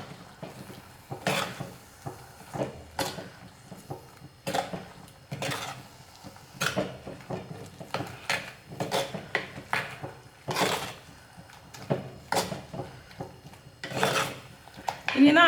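Ground coconut is stirred into pineapple pieces for Kerala sadya-style pachadi, a spoon scraping and rasping against the pan in repeated, uneven strokes, close and clear with no talking.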